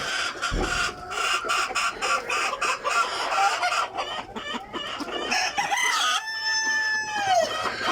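Egyptian Fayoumi hens cluck close by in a poultry yard, loud and repeated in uneven bursts, ending with a long drawn-out call.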